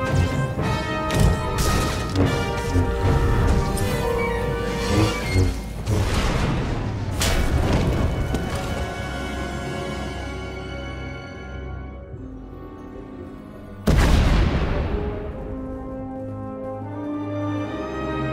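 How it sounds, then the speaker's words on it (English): Heavy explosions and crashing debris boom loudly in Star Wars: The Old Republic as a tunnel collapses, trailing off into long rumbling decays, then one more sharp blast near the end. "We heard explosions, the tunnel collapsed."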